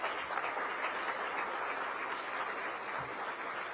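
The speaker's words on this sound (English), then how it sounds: "one last round of applause for both Robert and Lana" Steady crowd applause at a formal event, honoring two people just thanked on stage, sustained and fairly even throughout with no talk over it.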